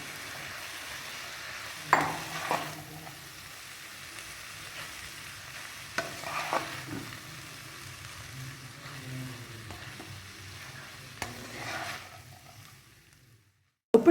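Chicken fried rice in a pan with fried eggs added on top, under a steady low sizzle, with a few sharp scraping and clattering stirs at intervals before it cuts off abruptly.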